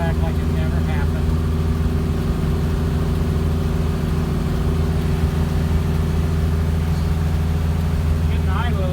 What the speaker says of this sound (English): Getting idle a little faster here, but I haven't pushed my foot down anymore, just getting warmed up